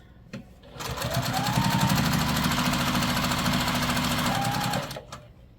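A sewing machine runs steadily for about four seconds as it stitches quilt fabric, making a loud, close, even mechanical whir that starts and stops abruptly.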